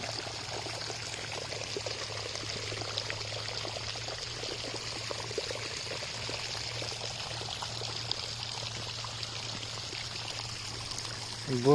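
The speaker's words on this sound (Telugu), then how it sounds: "నీళ్ళు ఇక ఇంకా పారుకుంటా పారుకుంటా పారుకుంటా పోతాయి మంచిగా" Water pours and streams steadily through a muddy paddy field without pause, a continuous rushing flow with a low hum underneath throughout.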